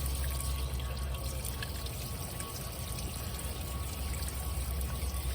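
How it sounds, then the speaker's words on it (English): A small trickle of water runs steadily beside a giant tortoise on a farm, a continuous soft wet flow that stays constant and close throughout. "Look at the little trickle coming right off he'll drink that water"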